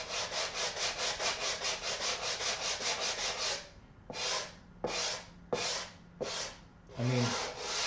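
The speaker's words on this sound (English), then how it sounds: "we need to do some more sanding on the top of this" Sandpaper rubs across the top of a wall for a 1:6 scale Halloween 1978 diorama, first in quick, even back-and-forth strokes, then in five slower, separate passes. Close and clear, with no talking.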